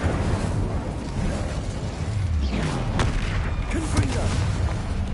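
An Incendio fire spell is cast during Hogwarts Legacy combat, bursting out as heavy whooshing booms over a dense, rumbling battle bed, loud and close, with a muffled voice in the mix.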